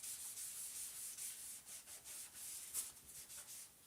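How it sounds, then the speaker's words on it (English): Sandpaper rubs over a painted surface to distress it, quick repeated back-and-forth scratchy strokes, soft and close, with no voices. "I'm going to distress it a little bit with some sanding."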